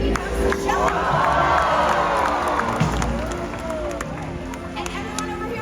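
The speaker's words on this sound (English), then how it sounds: "make sure you give him a great big killer whale cheer" A stadium crowd at a killer whale show in Orlando cheers and shouts loudly, children's voices rising in a sustained roar that slowly tapers off over several seconds.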